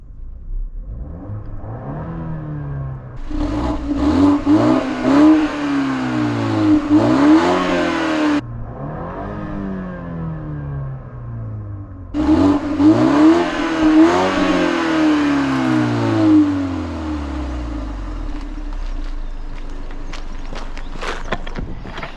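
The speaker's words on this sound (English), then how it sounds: "To me, it just sounds like a standard 4-cylinder car" A petrol four-cylinder BMW G20 3 Series engine in sport mode revs up twice in long, rising sweeps that fall back between bursts, then settles to a rough idle, loud and close.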